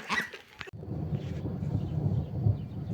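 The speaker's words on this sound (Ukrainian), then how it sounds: "Ось гром." Thunder from a late-May storm rumbles low and steady, a distant rolling boom that follows a short burst of noise and fills the rest of the clip with no talk.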